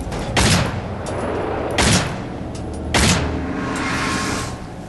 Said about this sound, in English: The machine gun hurts me.